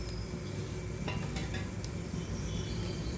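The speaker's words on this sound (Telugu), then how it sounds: "ఇప్పుడు దీంట్లో కొంచెం ఆయిల్ పోసుకుందాం" Oil poured into a pan while making mint chutney with peanuts, a steady hiss and faint clinks of utensils running continuously underneath, with no talking.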